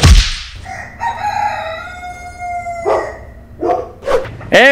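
A rooster crows loudly and close by in a makeshift backyard chicken coop, with a long drawn-out call followed by shorter clucks and squawks from the chickens.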